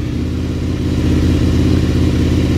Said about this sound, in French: vous mettez la moto à peu près à 2000 tours